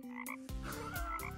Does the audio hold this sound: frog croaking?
yes